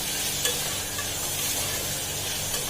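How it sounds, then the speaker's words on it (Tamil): Chopped tomatoes sizzle steadily in hot oil in a pan while being sautéed for a thanni salna gravy, a soft continuous frying hiss with faint stirring. "இந்த தக்காளி ஆட் பண்ணிக்கணும். நல்லா வதக்கணும்."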